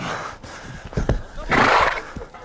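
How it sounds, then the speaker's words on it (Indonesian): A wild horse lets out a loud, rough neigh after a couple of sharp thumps, the whinny swelling briefly near the middle before fading, up close with no speech over it. "Miles lalu menyuruh Roman menyentuh kuda liar di belakangnya."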